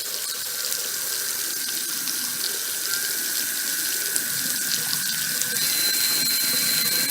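Water runs steadily from a bathroom tap fitted with a small faucet attachment, a continuous close hiss and splash that holds even for the whole stretch with no voices.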